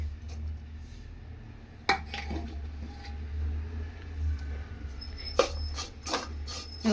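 Cooked rice is mixed into curry leaf chitranna in a pan off the heat, with scattered scrapes and clinks of a spoon against metal over a low background hum.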